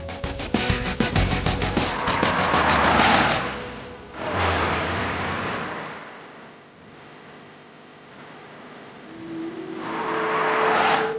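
Citroen C5 Aircross SUV on the move, its engine and road noise rising and falling in broad swells, loud and continuous with shifting tone as the car accelerates and eases off, no voices.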